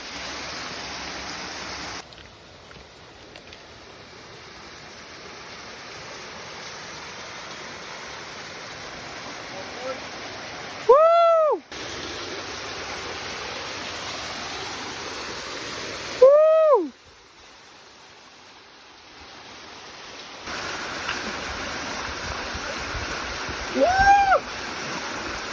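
A hidden waterfall at Gauda Shantinagar in Nepal pours with a steady, broad rush of water throughout, and a few brief voice-like calls rise over the roar.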